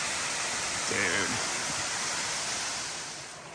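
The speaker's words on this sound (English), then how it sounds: "Nice little creek crossing." Water rushes steadily over a creek crossing on a trail hike, a continuous close hiss of flow with a brief voice murmuring over it early on.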